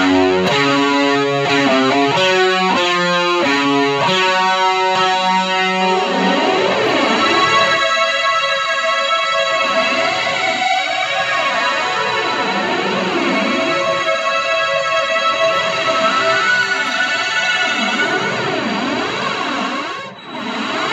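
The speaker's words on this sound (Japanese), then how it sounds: "タイプがランダムの方がなんか えげつないというか、かなりエグいなんかヒュア音が出るような気がしますね。" A Yamaha SPX90 effects unit on a random-type reverse gate setting swells and whooshes through layered, distorted tones that sweep up and down continuously, loud and alone, before cutting off at the end.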